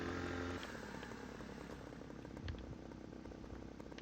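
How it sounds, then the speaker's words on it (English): A chainsaw in Farming Simulator 2015 runs steadily through a log-cutting session, a continuous buzzing drone with a small surge partway through, alone and without talk. "You hit the dirt with the chainsaw."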